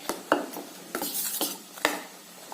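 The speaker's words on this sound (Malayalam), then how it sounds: "പച്ചമുളക് ഇതൊക്കെ അരിഞ്ഞിട്ട് ഈ ദോശ മാവിലേക്ക് എടുത്ത് ഇളക്കുന്നു" Spoon stirring chopped onion and green chili into fermented dosa batter in a steel bowl, a series of close, soft scrapes and clinks against the bowl, with no speech.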